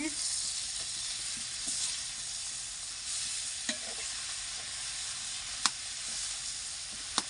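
Pumpkin pieces tossed with salt sizzle steadily in a hot pan, a continuous frying hiss with a few sharp stirring clicks and scrapes.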